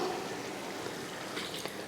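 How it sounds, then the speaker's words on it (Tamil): Water poured from a vessel into bitter gourd kuzhambu cooking in a pan, a soft, steady trickling wash lasting a couple of seconds, close and fairly quiet, with no talking. "குழம்புக்கு தேவையான தண்ணியை சேர்த்துடலாம்"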